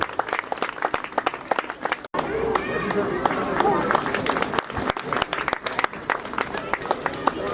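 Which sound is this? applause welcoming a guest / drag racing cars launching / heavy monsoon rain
applause welcoming a guest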